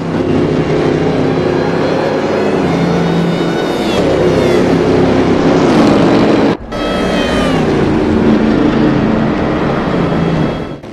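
Pre-war Mercedes racing car in an Assetto Corsa simulation of the 1936 Bremgarten circuit, its engine roaring loudly and continuously with rising revs, a brief cut around a gear change, then pulling hard again.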